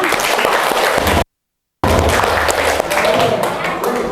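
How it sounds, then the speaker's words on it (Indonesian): Audience applause at an Indonesian training session, with dense clapping that fills the room, breaks off in a short silent gap, then resumes steadily and loudly. "Tepuk tangan buat kita semua."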